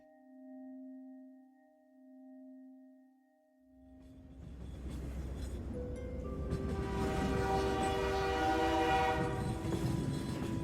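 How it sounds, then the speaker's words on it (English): A train sound effect: a steady horn tone sounds first, then the train rushes in with a loud, building rumble and clatter of wheels on the tracks that continues to the end. "The train scuttled across the tracks."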